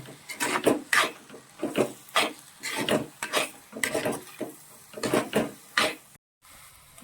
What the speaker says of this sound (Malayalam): മസാല ചേർത്ത് നന്നായിട്ട് ഇതിനെ ഒന്ന് മിക്സ് ചെയ്യണം